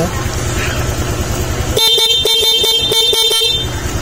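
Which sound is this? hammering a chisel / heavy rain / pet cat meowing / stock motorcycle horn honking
stock motorcycle horn honking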